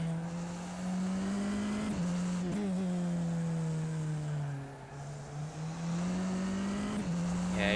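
A Tatuus FT-60 single-seater in rFactor 2 at Silverstone runs flat out, its engine holding a loud, steady high-revving whine with brief dips at gear changes, heard alone without talk.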